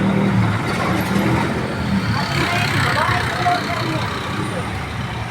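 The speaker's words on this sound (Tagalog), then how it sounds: "May malaking truck." A large truck moves through congested traffic on Boni Avenue in Mandaluyong, its engine rumble mixing with a dense wash of nearby car noise while someone talks over it.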